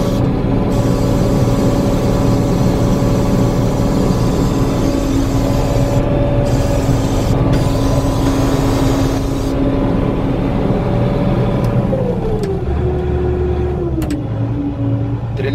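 New Holland 8055 combine harvester, converted to a TC57 Hydro, engine running steadily and loud nearby with a constant drone and whine that shifts pitch toward the end, no talk.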